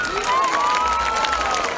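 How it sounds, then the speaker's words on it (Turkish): An outdoor crowd at a Bornova centenary celebration with a mass zeybek folk dance applauds the performers in a continuous, full wash of clapping, with a thin whistling tone drifting above it. "öncelikle çok değerli sanatçılarımıza büyük bir alkış istiyorum"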